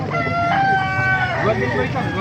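A Hiraw rooster crows at a busy tyangge market in Baliuag, its drawn-out call rising over a steady babble of crowd chatter and nearby voices.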